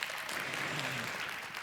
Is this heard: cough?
no